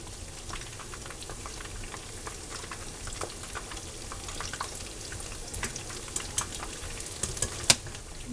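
Fresh fish frying in a pan of oil, a quiet continuous crackle with scattered sharper pops and spits that grow more frequent toward the end.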